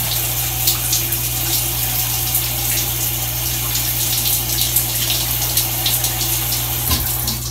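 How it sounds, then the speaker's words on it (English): Shower water runs steadily for several seconds, a constant close hiss and splash over a low, even hum, with no voices. "And if you can't do it with one shower, turn it off and go back."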